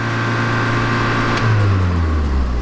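The engine of a 1987 Dodge Charger GLHS idles high with a steady, loud, close drone whose pitch dips slightly partway through.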